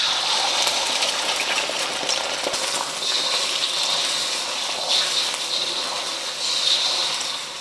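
Eggs hitting a hot wok slicked with neutral vegetable or canola oil for Japanese fried rice, giving a steady, loud, bright sizzle and hiss that carries on without a break the whole time, with no voices.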